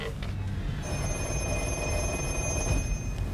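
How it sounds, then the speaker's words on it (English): A 1970s black telephone on a film set rings through a Viking system, its steady electronic bell sustained for several seconds at moderate volume, with no talking. "when we pick up this phone on the outside of the set, the black phone inside will ring"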